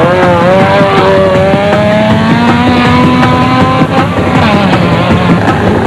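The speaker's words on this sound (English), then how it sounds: "Weichelt and Smalberger floored the accelerator as they set off at the head of the production vehicle category" Production-category off-road rally vehicles, including a Nissan Hardbody, accelerate away from the start of the Baberspan 500 rally with loud, continuous engine roar and rising revs, close and sustained throughout.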